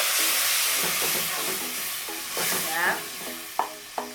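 Blended tomato is stirred into beef pilau frying in a pot, a steady loud sizzle with scraping spoon strokes and a couple of sharp knocks near the end.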